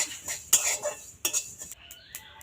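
Spices, including ajwain, are dry-roasted and stirred in an empty pan: light crackles and pops mix with metallic clinks and scrapes of the spoon, close and intermittent, with no voices.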